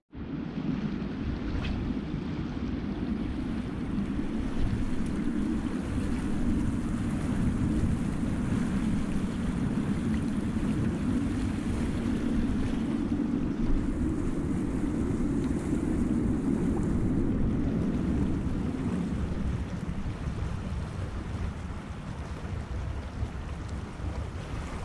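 Steady wind buffets the microphone outdoors on open water during a fishing trip, a continuous loud low rumble with the faint wash of waves and no talking, constant for the whole stretch.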